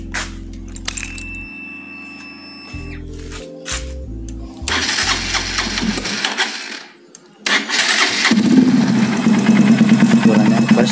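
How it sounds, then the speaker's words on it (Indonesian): A Honda Verza 150 motorcycle fitted with a Yoshimura exhaust runs up close after a few clicks and tones, settling into a steady, deep, bassy idle with one brief dip before the rumble resumes. "yang menurut saya bagus knalpot Yoshimura begini"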